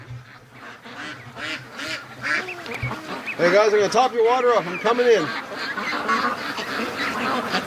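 Free-range ducks quack repeatedly in a pen, a dense run of loud calls building midway, while someone talks to them over the noise.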